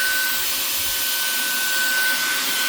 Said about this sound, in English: I believe it's only one power, that's it.